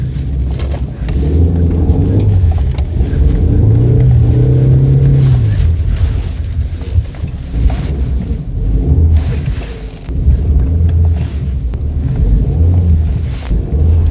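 A BMW E36 drift car drives through snow on its tires, its engine a steady loud low rumble with surging revs that swell and ease across the stretch, and no voices over it.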